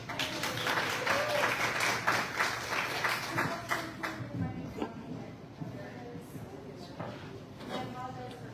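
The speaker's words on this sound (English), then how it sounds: "Give them a nice round of applause." Audience applause at a #UniteNC town hall in Fairmont, welcoming speakers on the Leandro school-funding case: steady, dense clapping that is fairly loud at first and then thins gradually over several seconds, with murmured voices underneath.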